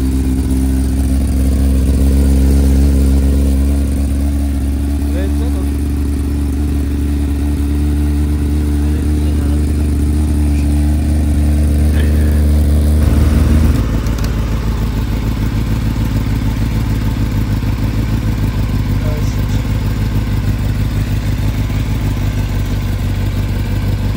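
A 2024 Bajaj Pulsar NS400Z motorcycle engine runs steadily while being ridden, a loud continuous mid-pitched drone that shifts character about halfway through, with wind rush throughout.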